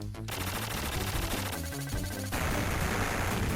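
A flamethrower fires in Contra Hard Corps, a dense, loud, continuous stream of weapon blasts over the game's music and effects with no voice.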